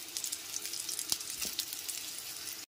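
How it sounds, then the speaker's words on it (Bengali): Fried potato pieces drop into a pan of sizzling spice tempering over a low gas flame, giving a steady, fairly faint frying hiss with a couple of soft clunks. "এরপর এতে ভেজে নেওয়া আলু টুকরোগুলোকে দিয়ে দিচ্ছি।"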